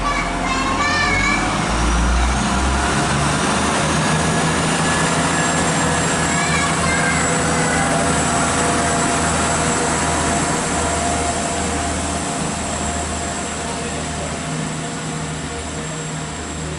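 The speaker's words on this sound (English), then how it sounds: "Here departing now is the 1139 Transport for Wales service to Carmarthen." A Transport for Wales train to Carmarthen pulls out of Stockport station, a steady broad rumble and hum of the moving train with faint squeals and whines over it, gradually easing as it departs.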